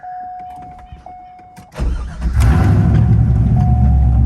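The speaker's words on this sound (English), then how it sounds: "We can now start the engine." A Corvette C5 fitted with a Honker intake cranks and fires up, a short starter whir followed by a loud catch and a steady, rumbling idle, after a quiet beep and faint clicks.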